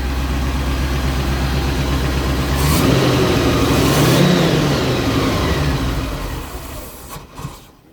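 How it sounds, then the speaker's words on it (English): A 1972 Range Rover engine with its choke stuck on idles with a steady throb, then revs up into a louder rising roar and settles back down before cutting off abruptly. "So now we've got the engine running sweet"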